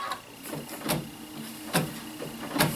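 An embroidery machine stitches cotton on a hoop for a quilt block, its mechanical whirring broken by periodic sharp clicks and thumps at irregular intervals, close and moderately loud.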